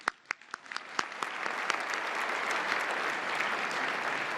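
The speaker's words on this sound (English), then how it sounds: "One more round of applause, please." A ballroom audience at the White House Correspondents' dinner breaks into applause, scattered claps building within a second into a steady, broad wash of clapping from many hands, heard from some distance.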